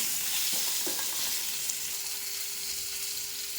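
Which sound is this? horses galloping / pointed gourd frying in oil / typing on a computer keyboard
pointed gourd frying in oil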